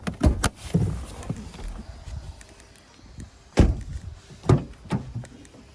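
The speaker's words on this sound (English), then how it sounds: "Pop the bonnet, which is just down here" Several sharp mechanical clunks and thuds as the bonnet of a 2017 Nissan Navara Tekna 2.3 dCi 190 automatic is released and popped open, close by, with quieter rustling between the knocks.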